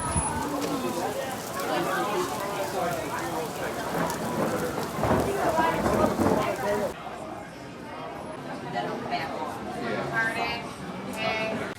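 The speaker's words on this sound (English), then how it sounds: "I can hear how bad the rain is right now. It's just coming down in buckets." Heavy rain pouring down in buckets at an amusement park, heard from indoors as a dense, steady roar of drops that drums on without pause.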